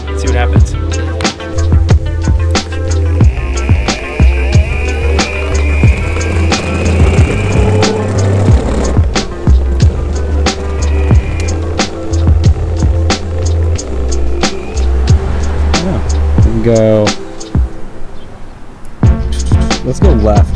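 A Onewheel electric board rolls steadily along a town street, its low motor hum and throbbing wheel rumble continuous and close, with repeated sharp clacks and bumps over pavement seams throughout.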